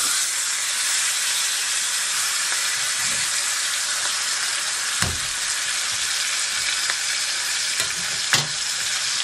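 Pork chops fry in a pan with a loud, steady sizzle and hiss that holds throughout, broken by a few sharp clicks and taps as the meat is turned.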